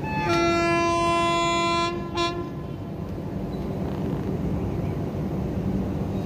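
A goods train near Vijayawada station sounds a long, tonal horn, then rolls on with a steady low rumble and clatter heard from nearby.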